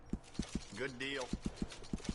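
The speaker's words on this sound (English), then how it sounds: "Nothing better than a well-groomed horse." Horse hooves clip-clop in an even, moderately loud rhythm, several strikes before and after a short voice cuts in midway.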